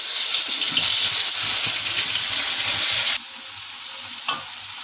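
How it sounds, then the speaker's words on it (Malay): Ground spice paste hits hot cooking oil and ghee in a wok with a loud, steady sizzle that abruptly drops to a quieter hiss partway through, close up with no talking. "Sekarang saya akan masukkan bahan-bahan yang telah dikisar."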